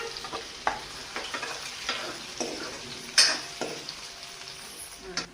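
Sliced onions with ginger-garlic paste sizzle in a pan for pav bhaji while a spoon stirs and scrapes, soft steady frying broken by sharp clinks and taps of the utensil against the pan.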